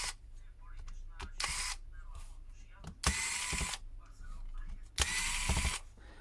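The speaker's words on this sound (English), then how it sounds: "So first of all, we need to unscrew all screws on the back." Screws being undone on the back of an old Nokia N91 phone during disassembly: several short bursts of close, bright mechanical whirring from a small power screwdriver, separated by quieter pauses with faint handling clicks.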